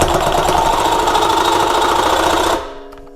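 A power tool cuts through the exhaust pipe of a turbo diesel Jeep Liberty, a loud rapid hammering buzz for a few seconds that stops abruptly, leaving a faint ringing tail.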